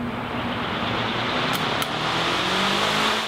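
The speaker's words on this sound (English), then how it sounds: "Turn on the large exhaust fan with three pulls of the drawstring to reach maximum speed." Large shop exhaust fan in a school plasma-cutting building runs up to speed, a loud steady roar of rushing air with low humming tones slowly rising in pitch, two brief clicks near the middle.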